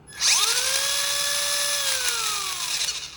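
A whirring bicycle drivetrain spins up, holds a steady whine with a faint clicking for about two seconds, then winds down, loud and close.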